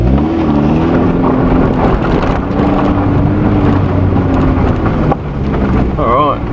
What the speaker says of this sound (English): we're just driving up the road and back, testing this.